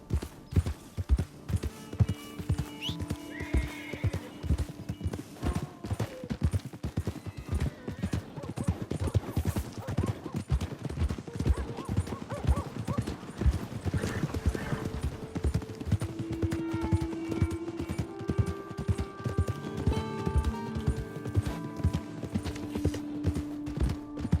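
Hooves clip-clop in a steady, rapid rhythm for a long stretch in Red Dead Redemption 2, with an occasional whinny and faint background sounds.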